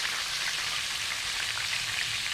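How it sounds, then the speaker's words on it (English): Chicken schnitzel fries in hot fat with a dense, steady sizzle. Fine crackling pops run through it closely, with no talk. "the sound of the sizzle"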